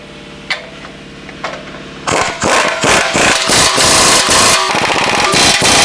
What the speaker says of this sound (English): We're gonna take an 11/16 socket, and we're just gonna tighten all these up.